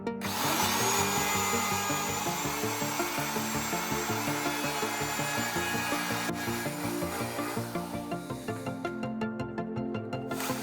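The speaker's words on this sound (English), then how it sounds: "I've got a straight cutter in the router here" A router fitted with a straight cutter grinds through a wooden board in one continuous pass, a loud, steady rasping whine with rhythmic pulsing, ending with a brief rougher stretch as the cut finishes.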